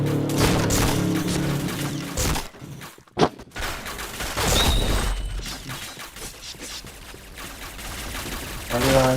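Gunfire from the shooter video game Point Blank sounds as bursts of rapid shots and sharp booms, with a brief silent gap mid-way and players talking over the action.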